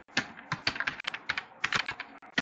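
Rapid computer keyboard typing while entering code, a quick irregular run of close, crisp key clicks with brief pauses, no voices.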